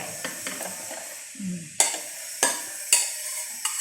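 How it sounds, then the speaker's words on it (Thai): Vegetables tipped into a hot pan crackle and sizzle, with a few sharp clatters of stirring utensil against the pan, sounding close and moderately loud. "แล้วก็ใส่ผักลงไป"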